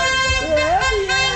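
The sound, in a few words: car arriving and honking its horn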